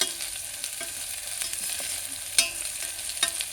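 Onions, salt, green chillies and ginger-garlic paste fry in a pan for mutton with beans, a close steady hiss of sizzling oil with occasional sharp stirring knocks, no voices.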